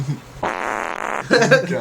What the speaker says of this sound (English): There's another fart.